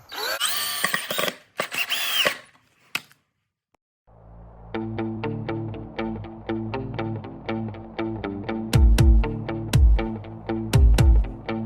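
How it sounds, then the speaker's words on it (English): Power drill boring pilot holes in wood for a cornhole board frame, heard first in a couple of short loud bursts, then after a brief silence as a long steady whirring run with rhythmic pulsing and a few sharp knocks. "drill and drill in first before taking your screw and screwing it in."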